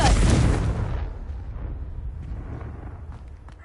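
A Confringo fire spell explodes in the Hogwarts Legacy video game: one loud, close burst that decays into a long rumbling tail, with no talk over it.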